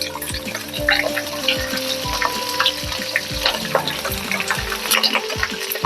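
Chillies and mustard seeds dropped into hot oil for tempering khaman, a crackling sizzle with scattered pops and spits running steadily throughout, with clinks and a hum in the background.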